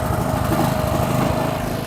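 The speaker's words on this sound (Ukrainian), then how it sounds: "Двигун працює." A small Vitals JBS 2.8bg petrol generator engine runs steadily at a loud, constant drone, close by and uninterrupted, with the choke open.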